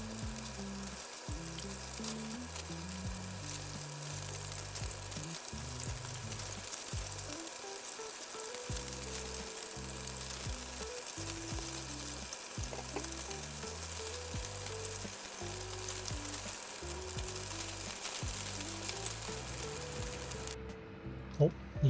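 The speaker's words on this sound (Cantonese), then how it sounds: "兩邊煎到差唔多啦" Chicken pieces pan-fry in oil in a wok, a constant crackling sizzle with bursts of stirring and shifting that keep going for the whole stretch, with faint speech in places.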